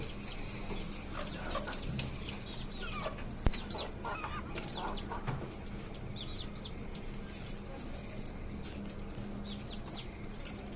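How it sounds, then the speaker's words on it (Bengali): Chickens in rooftop farm cages, desi and tiger breeds, cluck and call repeatedly against a steady hum, with wings flapping and one sharp knock partway through. "এইখানে আমার আরো কিছু বেশি মুরগি আছে ওরা ডিম পাঠতেছে"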